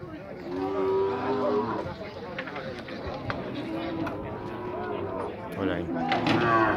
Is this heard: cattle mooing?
yes